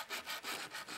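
A soldered metal ring is rubbed back and forth across sandpaper in quick, even strokes, about four close, soft rasping passes.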